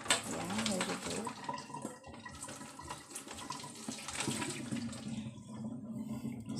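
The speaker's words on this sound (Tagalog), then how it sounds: "So, tapon ko lang itong hot water." Hot water is poured out into a kitchen sink while making Thai crab noodle salad, a close, uneven gush and splash running throughout, with a voice talking faintly underneath.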